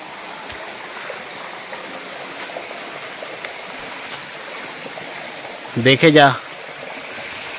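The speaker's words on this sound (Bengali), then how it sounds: "এটাই সম্ভবত ধারাগিরি ওয়াটারফলস থেকে জলটা এসে পড়ছে" Steady rushing flow of a stream carrying water down from the Dharagiri Waterfalls, a continuous outdoor wash with a brief burst of speech near the end.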